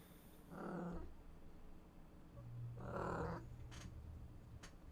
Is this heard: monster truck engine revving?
no